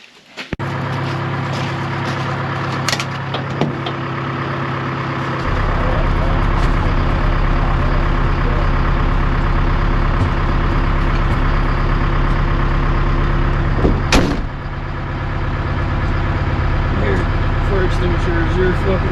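A 1976 Ford F250 powered by a Detroit 453T diesel engine runs with a steady, loud low rumble that deepens partway through, while people talk nearby over the engine.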